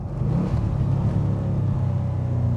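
A De Tomaso Pantera's engine braking through corners, a deep low engine rumble close by with a steady throaty drone and slight rise and fall in pitch, no talking.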